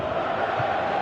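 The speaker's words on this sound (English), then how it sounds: "you can hear how the crowd are reacting to this too" A stadium crowd in a PlayStation 4 football video game, with a steady, dense roar of many voices swelling evenly throughout, with no commentary over it.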